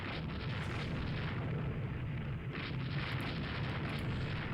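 Naval guns and torpedoes fire in the Rule The Waves 2 naval game, a dense continuous roar of heavy booming blasts with a fresh burst of noise around midway, loud and unbroken throughout.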